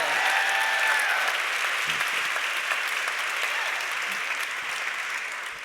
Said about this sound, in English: Yeah, we can applaud for that.